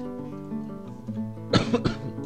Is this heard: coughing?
yes